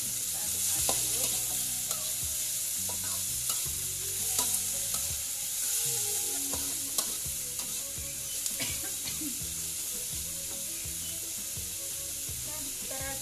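Dried squid frying in a pan and being stirred, with a continuous bright sizzle under repeated scraping and clacking of the spatula throughout.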